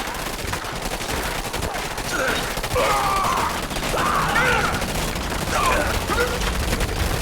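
Rapid bursts of small-arms gunfire crackle as soldiers attack Nod soldiers in Command & Conquer 3: Tiberium Wars, with overlapping volleys and occasional groans in a continuous, loud battle din.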